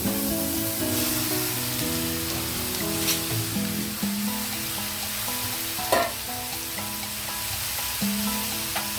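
Cauliflower hits hot oil in a pan and sets off a loud, continuous sizzle, with spatula stirring scraping through it and a sharp clatter partway in.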